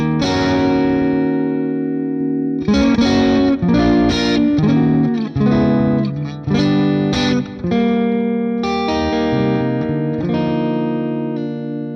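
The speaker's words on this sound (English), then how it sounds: "This one feels like just distortion, like nice distortion." Heavily distorted electric guitar through an Amplitube 5 Mesa Boogie Mark II C+ amp model, pushed hard with no clean tone, playing sustained chords and short riffs over twelve seconds, loud and saturated.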